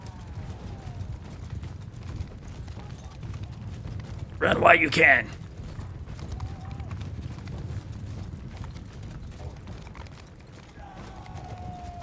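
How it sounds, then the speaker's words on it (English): Steady rhythmic clip-clop of hooves trots along under a voice in Mount & Blade II: Bannerlord battle, with a short loud burst of noise midway and a faint ambient rumble. "I hear a horse trotting beside me."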